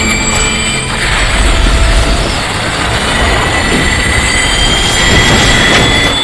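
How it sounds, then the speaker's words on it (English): A high-powered turbine in a film pulls with powerful suction, giving a loud, steady rushing roar with thin whining tones riding over it, unbroken and without voices. "escaping the powerful suction of a high-powered turbine"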